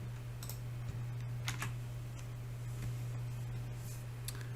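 Quiet computer keyboard typing of a website address, sparse irregular key taps over a steady low electrical hum, with no talking.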